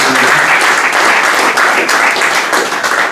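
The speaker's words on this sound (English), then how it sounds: "let's give a big applause for our speakers" Loud applause from an academic lecture audience at FU Berlin thanking the speakers, a dense, close wash of clapping that stays strong throughout and fades slightly at the end.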